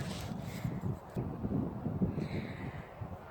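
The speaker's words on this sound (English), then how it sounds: "Seems like I always film on a windy day" Steady wind rumble buffets the microphone outdoors, a low continuous roar with gusty swells throughout.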